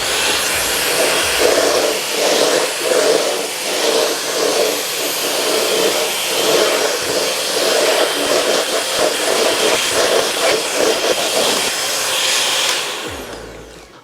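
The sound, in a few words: Eureka lightweight corded stick vacuum running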